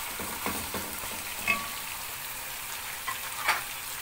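Fried chicken pieces and vegetables sizzle in a pan while being stirred, a quiet steady crackle broken by a few scraping strokes and light clinks of the utensil.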